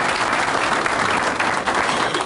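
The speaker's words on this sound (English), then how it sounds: "give them a round of applause" A crowd at a lodge groundbreaking ceremony claps steadily for the lodge founders, a dense sustained burst of applause heard up close.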